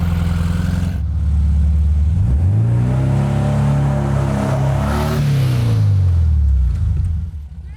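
A 1952 MG TD kit car's engine revs up hard and holds high as it tries a burnout after rolling backward off a hill, a loud, close, steady roar rising then easing off near the end.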